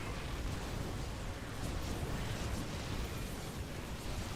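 A StarCraft 2 battle with Brood Lords attacking and a Spine Crawler firing, heard as a steady, loud wash of explosive, crackling combat noise with small bursts throughout.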